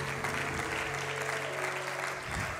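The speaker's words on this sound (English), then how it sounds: "Let's give the Lord another hand clap for everybody showing up on a Saturday night." Congregation applause at a Saturday night church service, a dense, sustained patter of clapping with a few low tonal sounds lingering underneath, steady and moderately loud throughout.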